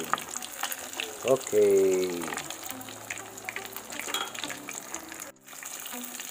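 Chicken cordon bleu deep frying in boiling oil, a continuous crackling sizzle with clinks of a utensil, under someone talking.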